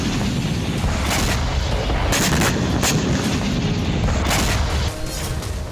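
Heavy artillery fire and explosions in war footage from Ukrainian strikes on Russian soil, a dense continuous barrage of booms and cracks with sharper blasts standing out around the middle and again near the end.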